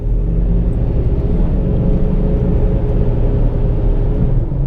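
Deep, loud, continuous engine rumble from a Lincoln Mark VII fitted with an SR cold air intake, accelerating on the road with a steady low drone heard from inside the car.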